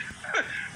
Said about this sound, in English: So expect to hear some birds chirping and things like that.